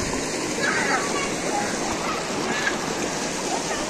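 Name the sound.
flowing water at a water spring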